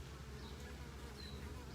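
Honey bees buzz inside a small mating nuc, a faint, steady close-up hum with thin higher-pitched whines from individual bees passing near.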